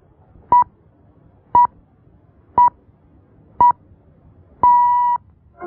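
Radio time signal on Armed Forces Network Europe marking 18:00 Central European Time: four short, evenly spaced beeps about a second apart, then a longer final tone, clear and alone over faint background hiss.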